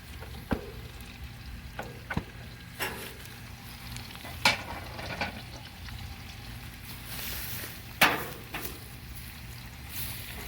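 Chicken frying over an open fire with curry leaves, sliced ginger and carrots, a steady crackling sizzle with occasional sharp pops and stirring scrapes, fairly close and continuous throughout.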